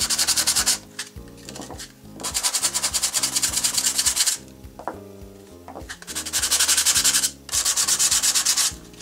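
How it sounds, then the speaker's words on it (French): Cardboard pieces for a Christmas tree ornament are sanded by hand in repeated bursts of brisk back-and-forth rubbing, loud and close, with short pauses and small knocks between strokes. "vous allez poncer les deux parties qui doivent être collées ensemble"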